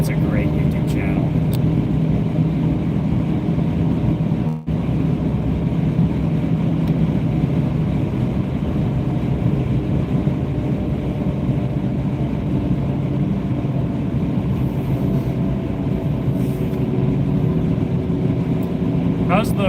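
Steady wind and road noise inside a moving car on winter tires, a constant low roar and hum that stays even throughout with only a brief dip.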